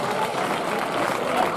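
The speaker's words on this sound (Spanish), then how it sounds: "Y se merece ese fuerte aplauso." A crowd at a street bullfighting contest applauds, a steady, dense wash of clapping that stays loud and unbroken from start to end.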